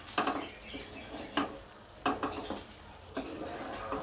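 A spoon stirs a pot of khichdi with ghee and chopped coriander, then a lid goes on, giving several sharp metallic clinks and scrapes spaced through a quiet kitchen.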